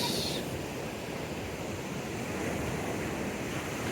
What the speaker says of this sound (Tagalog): Oops, tumalakas ng alon.